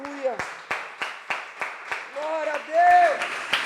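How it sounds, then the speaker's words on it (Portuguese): A church congregation at a worship service claps in a steady rhythmic beat, about three claps a second, while a voice speaks and sings over the clapping. "Você pode aplaudir ao nome do Senhor"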